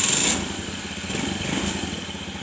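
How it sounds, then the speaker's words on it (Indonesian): A motorcycle engine cranked on its electric starter button while the brake is held, giving a loud, steady mechanical whir and rumble that runs close up through the whole short stretch. "kita kontak, kita tombol kita hidupkan sambil direm"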